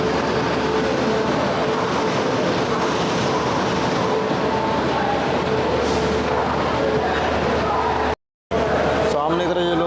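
Train pulling out of Lucknow Junction on the Padmavat Express, a steady rumbling rail noise with faint clatter that carries on throughout, broken by a brief dropout near the end.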